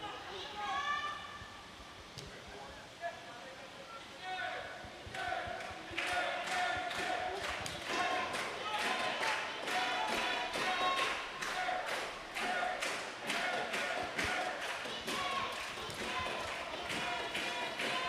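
A football crowd at a Singapore Premier League match keeps up a rhythmic pattern of clapping and chanting, evenly pulsing and fairly loud, with a commentator talking over it.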